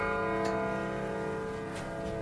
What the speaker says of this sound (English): I'm listening to all the racket that those clocks are making.